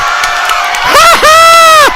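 Basketball crowd at a high school state-championship playoff game roars in loud, sustained cheering, with high whoops and shouts rising sharply near the end as the noise swells.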